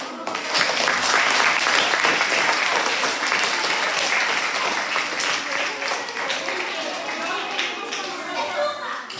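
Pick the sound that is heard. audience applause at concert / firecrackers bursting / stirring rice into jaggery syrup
audience applause at concert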